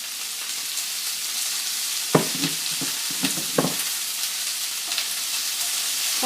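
Vegetables cook down in olive oil in a pan over a gas flame, a steady soft sizzle running throughout with a few sharper clicks of stirring or utensil contact near the middle.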